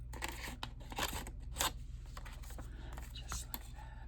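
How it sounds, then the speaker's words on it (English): Scissors snip through paper for a handmade artsy journal in a few crisp, close cuts, each a short sharp crunch, against a low background hum. "Now let's cut this part off right about here."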